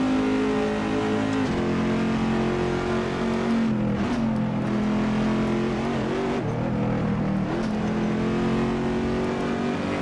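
A Corvette mod car in Assetto Corsa drones loudly and continuously, its engine revving up and down through gear changes with a few brief dips in pitch.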